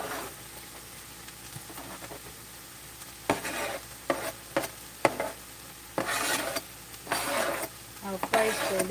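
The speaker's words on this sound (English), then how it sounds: "I'll fry it for a little bit." Garlic frying in a pan during home meal prep: a quiet steady sizzle broken by scraping stirs and brief clinks that grow busier toward the end, with no talking.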